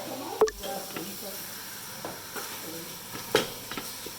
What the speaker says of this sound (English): Our minced meat is cooking. You can see it's browning.